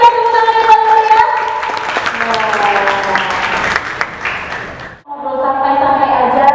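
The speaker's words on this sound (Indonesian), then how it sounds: "Boleh berikan tepuk tangan yang paling meriah." Audience applause at an indoor animal lovers' gathering: a dense patter of clapping mixed with tonal music or voices, dipping briefly before swelling again.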